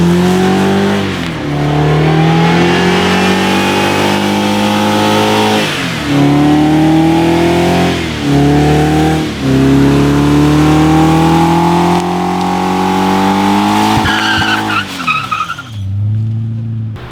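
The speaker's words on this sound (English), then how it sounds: "here are some burnouts of me in the wagon when I was prepping my car" A turbocharged BMW E34 wagon revs hard in repeated bursts with squealing tyres during burnouts, each surge rising in pitch before dropping, loud and close.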